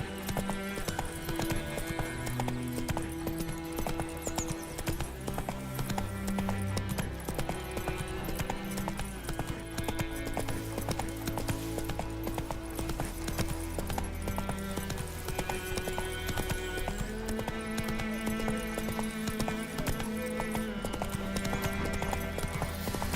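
Roach the horse gallops in The Witcher 3, a steady run of clip-clop hoofbeats continuing throughout over a dense layer of game music, with no talk.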